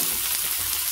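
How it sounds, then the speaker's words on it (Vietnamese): Whole chicken wings fry in a pan of hot oil with a steady, close sizzle and crackle, unbroken for a brief second with no voices. "Rồi bắt đầu bây giờ mình bỏ luôn nguyên cái gà của mình chiên á."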